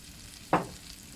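Fresh and dried bird's eye chilies hit a hot pan for a stir-fried basil shrimp dish, giving one short, sharp sizzle that quickly fades back into quiet.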